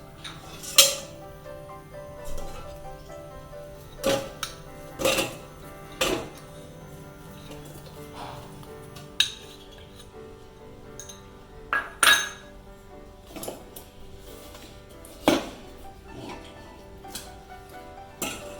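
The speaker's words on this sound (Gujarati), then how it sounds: "આ રીતે ગોળ ગરમ કરવાનો અને આ રીતે આમ હલાવતું જવાનું અને ગોળ ગરમ કરી લેવાનો" A spoon stirs jaggery melting in two spoonfuls of hot ghee in a pot over a medium gas flame, giving irregular sharp metallic clinks and knocks that recur close by across the whole stretch.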